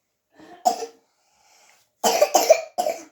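A young girl coughs in short bursts, one cough, a pause, then a rapid cluster of three to four close, loud coughs in a quiet room.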